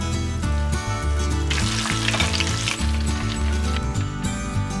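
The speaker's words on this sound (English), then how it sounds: "Stick the shrimp in the flour, egg wash, breadcrumbs, then into the oil." Flour-, egg- and breadcrumb-coated shrimp fry in hot oil with a steady crackling sizzle that swells midway, partly masked by loud background music.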